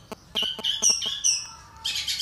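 A long-tailed shrike (cendet) calls in a rapid series of sharp, high chirps and whistled notes, close and fairly loud, ending in a harsher burst of chatter.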